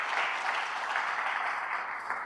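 Steady, dense applause from a church congregation for Christ at the close of a sermon, continuous and even, with no talk over it.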